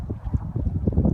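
Gusty wind buffets the microphone outdoors beside a frozen river in low-20s cold, giving rough, close, low rumbling bursts.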